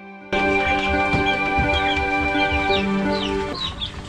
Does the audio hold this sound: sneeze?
no